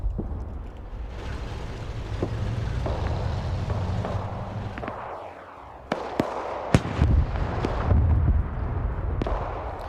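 WW2 tank combat in the Iron Front military video game, with Soviet T-34s facing Panzer IVs: a steady low engine rumble under distant booms, then several sharp cannon cracks and blasts in the second half.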